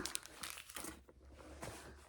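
Soft paper tissues crumpled and stuffed into a Hermès Herbag Zip 31 handbag, a close, quiet run of crinkling and rustling bursts with short pauses, no talk.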